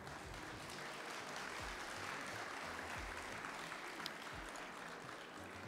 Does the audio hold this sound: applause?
yes